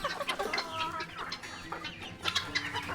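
Several egg-laying hens cluck and murmur close by in a busy, continuous chatter, with occasional sharper calls rising over the flock.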